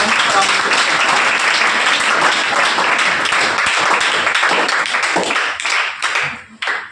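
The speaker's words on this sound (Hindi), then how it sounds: "आपकी जोरदार तालियों के साथ आपको" Loud, sustained applause from a large crowd at a school ceremony honouring top students, steady for several seconds before thinning out and fading at the end.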